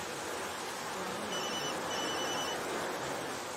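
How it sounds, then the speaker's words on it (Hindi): A mobile phone rings in a South Indian movie scene with a thin, high electronic ringtone, moderately faint, rising out of a steady hiss of background noise for a couple of seconds, with no talking. "देख किसका फोन है?"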